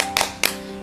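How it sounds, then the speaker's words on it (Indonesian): Two sharp, bright claps about a quarter second apart, part of a children's rhythmic clap chant during a church children's faith class, with a steady background hum. "Sekarang kita tepuk hebat dulu ya, biar tambah semangat."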